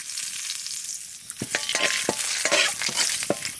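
Whole spices, cardamom and bay leaf, sizzle in hot oil for tempering in a village-style Bengali kitchen, a steady close frying hiss broken by several sharp crackles and stirring scrapes.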